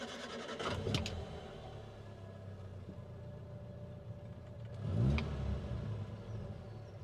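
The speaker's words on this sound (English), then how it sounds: "Let me get the car started up and you can have a little listen." A 1960s Hillman Super Minx Mk3 cranks and fires at about five seconds, its starter whir giving way to a low engine rumble that settles into a steady idle, heard fairly close with no talk.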